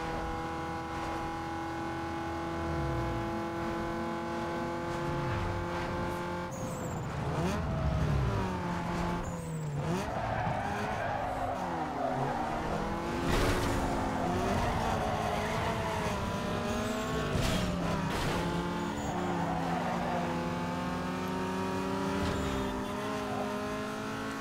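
A race car in the video game Need for Speed Underground 2 accelerates hard on a circuit, engine whine rising and falling through gear shifts, with scrapes and tire noise mixing in over a steady game backdrop.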